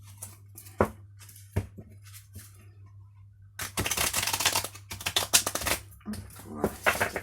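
A brand-new deck of cards being shuffled, starting with a few sparse flicks and taps, then a dense, crisp riffling burst of card noise up close, with a quiet steady hum underneath.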